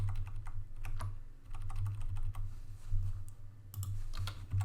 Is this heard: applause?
no